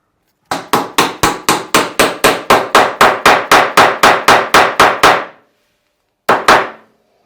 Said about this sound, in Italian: andremo a battere con il martelletto per far arretrare la lama